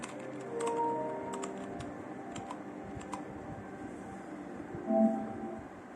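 Clicky typing on a Keychron K2 V2 wireless mechanical keyboard, scattered keystrokes at irregular intervals at close range, with a faint electronic tone and light background hum.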